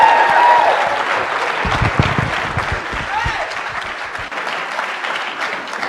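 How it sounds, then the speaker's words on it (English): Sustained audience applause for a guest professor at a legal-profession leadership event, a dense, steady wash of many hands clapping that holds at full strength for about six seconds. "one also big round of applause for Professor Shannon"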